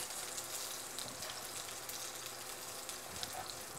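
Diced pepper sautés in oil in a pan on an induction stove, giving a steady, soft sizzle and crackle throughout.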